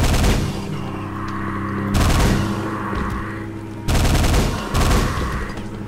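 Machine-gun fire in the video game Quake comes in four loud, rattling bursts of rapid shots, each about a second or two long, close and dominant with no talk over it.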